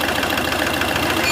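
A Volkswagen Polo diesel engine idling with a misfire gives a close, continuous mechanical chug with an uneven, pulsing rhythm. No one speaks.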